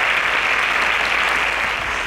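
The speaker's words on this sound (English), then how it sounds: "A round of applause for Samuel" A quiz-show studio audience breaks into loud, dense applause for a contestant on a science quiz, a continuous burst of many hands clapping close and full for a couple of seconds, without speech over it.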